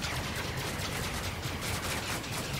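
Ship weapons fire in rapid, dense bursts during a Star Citizen Reclaimer combat mission, a loud continuous barrage with no talking.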